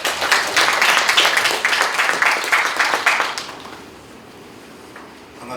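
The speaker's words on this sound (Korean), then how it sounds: "박수로 맞이해 주십시오." Audience at a Korean ceremony for UN World Habitat Day claps to welcome a speaker to the stage, a steady burst of applause lasting about three seconds before dying away into a quiet hall.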